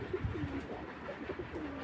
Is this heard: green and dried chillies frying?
no